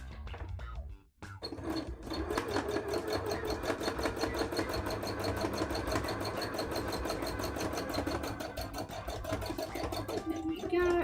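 An embroidery machine stitches continuously for about ten seconds with a steady rapid rhythm after a brief pause near the start, close and fairly loud throughout.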